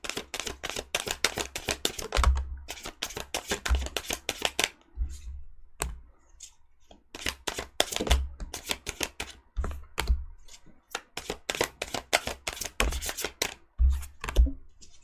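Tarot cards being shuffled, giving rapid crisp riffling clicks in bursts with short pauses and soft low thumps, close and fairly quiet.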